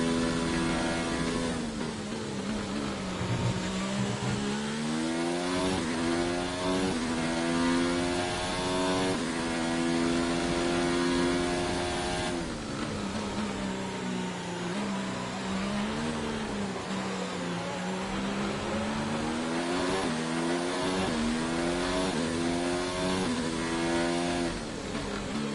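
A Formula 1 race car engine in the F1 2019 game at the Canadian Grand Prix, revving loudly and continuously with rising and falling pitch through gear changes, close and steady for the whole stretch.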